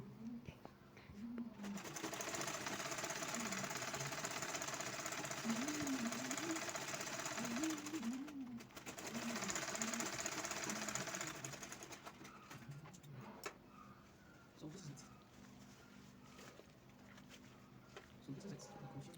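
A sewing machine stitches down the length of a marked sleeve for a halter-neck top, running steadily in two long bursts with a short pause between them, then quieter handling sounds while a voice speaks.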